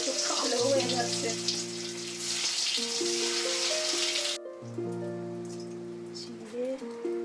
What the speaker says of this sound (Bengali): আলুগুলো একটু ভেজে তুলে রাখবো